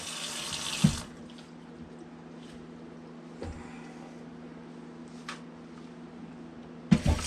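Hot water running from a kitchen tap into a sink while a duck is being prepared, a steady close stream with a few soft knocks and clunks against it and no talk.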